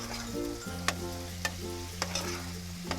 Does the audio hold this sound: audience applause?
no